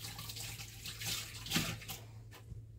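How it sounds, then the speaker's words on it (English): Tap water runs over hands at a kitchen sink while cooking a roasted pumpkin and vegetable casserole, a steady close splash with a brief surge midway and no talk. "Wash my hands again."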